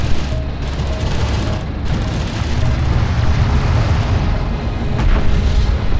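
Dense, continuous gunfire and booming explosions from battling armored units in the Homeworld: Deserts of Kharak strategy game, a loud, rumbling barrage that never lets up, with a few sharper blasts standing out.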